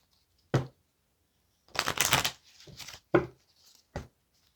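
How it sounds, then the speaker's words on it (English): Tarot and oracle card decks are riffled and shuffled up close, giving a few quick crisp flutters and taps with a longer rustling burst in the middle. "all these decks were pre-shuffled, so I'm only running it through a few times."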